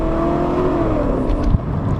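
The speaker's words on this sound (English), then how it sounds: "Let's try a nice 20 miles per hour roll on and see how it feels." A Mustang GT 2V fitted with an Airaid cold air intake drones steadily from the cabin in a 20 mph roll-on, its engine note rising gradually, with no talk.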